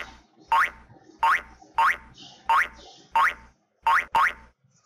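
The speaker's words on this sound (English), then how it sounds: "So this is called as boink loop." A cartoon boink sound effect for a bouncing ball animation, repeating seven times at a steady, roughly two-per-second rhythm, each a bright springy upward-sliding twang that stops short, loud and isolated with silence between.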